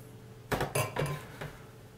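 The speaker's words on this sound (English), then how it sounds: "I'm just going to use a fork just to mix that egg in slightly" A metal fork clinks and scrapes in a bowl while mixing cracked eggs, almond flour and zucchini, giving four quick, close clatters over roughly a second.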